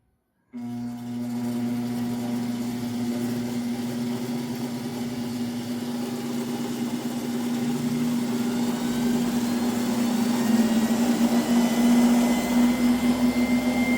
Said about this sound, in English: so I can sit on the feed side of the bandsaw and turn it on